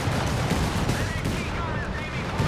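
Auto cannons firing in the World War II strategy game Company of Heroes 3, a dense, continuous clatter of rapid bursts and explosions forming a loud wall of battle noise.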